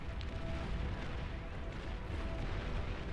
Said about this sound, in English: Put the hounds into Gauss cannon mode. Much higher velocity on these shots.